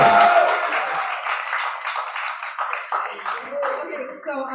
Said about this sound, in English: Clap as Aisha comes to the mic.